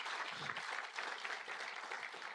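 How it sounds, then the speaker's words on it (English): Applause rises from an audience at a wealth creation and life skills training session, a faint, continuous patter of many hands clapping at a distance. "A round of applause to Dr. Cavani."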